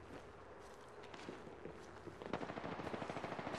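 Video game gunfire: a rapid automatic burst of shots building in the second half, preceded by quieter shuffling movement and background clatter, moderately close.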